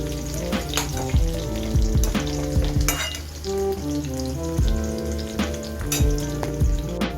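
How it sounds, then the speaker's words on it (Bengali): Potatoes fry in hot oil in a wok, a continuous crackling sizzle that sits under louder background music. "ভাজা হোক আলুটা"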